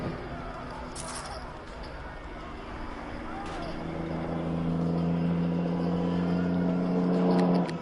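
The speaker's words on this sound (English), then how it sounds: "Okay, car, we get it. You're loud." A car engine in the video game Neverwinter Nights Enhanced Edition rumbles and revs, growing louder and more droning toward the end, with a voice talking over it.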